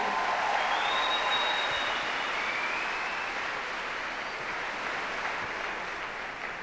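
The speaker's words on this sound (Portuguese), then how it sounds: "vocês aplaudem de novo para mostrar vocês bonitos para o Brasil" An audience applauds at a Catholic gathering, a dense, even wash of clapping that fills the space steadily and slowly eases off toward the end.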